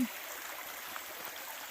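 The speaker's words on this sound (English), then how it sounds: "it looks like a beautiful little creek to me" A small creek flowing near a hiking trail, a steady, soft wash of running water heard close by with no other sounds.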